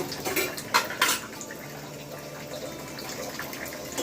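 Clinks and clatters of a dish being handled in a kitchen while cooking chicken dum biryani, a few sharp knocks near the start over running water and a low background wash.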